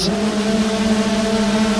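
Race car engines at the start of a club race at Rowrah, a loud, steady rising drone with strong harmonic tones as revs build, continuous throughout.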